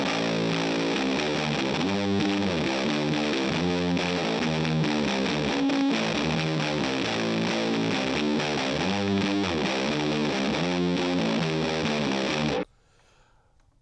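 Electric guitar played through a ProCo RAT distortion pedal, a sustained run of heavily distorted chords for about twelve seconds before cutting off abruptly into near silence.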